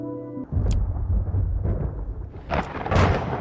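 Heavy thunder rumbles through a Backrooms video game, a sustained low roar with sharp lightning cracks near the start and louder bursts toward the end.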